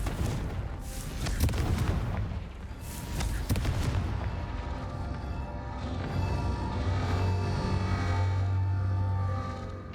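Confringo, the fiery explosive spell in Hogwarts Legacy, landing in several sharp bursts early on, then settling into a low rumbling hum and lingering game noise.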